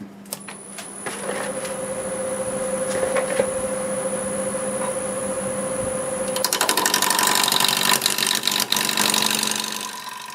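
A wood lathe turning a dry cherry wood bowl at 730 RPM with a freshly sharpened 5/8 bowl gouge, first as a steady motor hum with a high whine, then a rough, continuous cutting rasp from about six seconds on.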